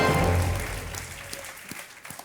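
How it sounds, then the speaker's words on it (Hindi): Studio audience applause on a television quiz show, a dense burst of clapping that starts full and fades away over a couple of seconds, heard alone. "तालियां बजती रहे इनके लिए।"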